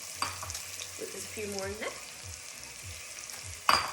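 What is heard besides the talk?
spices and onions sizzling in oil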